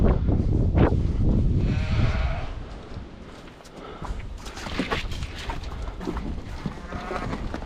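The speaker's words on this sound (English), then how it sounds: "The sheep are the noisiest animals on the farm" Sheep bleat repeatedly on a farm at feeding time, several overlapping calls at moderate distance over a steady outdoor background with some rustling.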